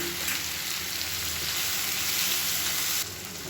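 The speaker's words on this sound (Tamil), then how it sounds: "வெங்காயம் தக்காளி எல்லாமே நல்லா வதங்கிடுச்சு" Onions and tomatoes with salt sizzle and fry steadily in a pan, a dense, close hiss running without pause before dropping slightly quieter near the end.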